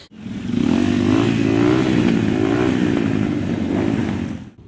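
Motorcycles at a biker gathering of over a hundred bikes in Kolomyia, a loud, sustained engine roar with a wavering revving pitch that rises and falls, filling the whole stretch close by.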